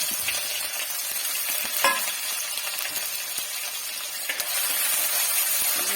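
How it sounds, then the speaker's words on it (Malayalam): Crushed garlic and ginger are stirred in a pan of fish head curry, with a steady soft sizzle, occasional scraping strokes and light clinks, and no talking. "നോക്കുമ്പോൾ വരെ നമുക്ക് ഇളക്കാം"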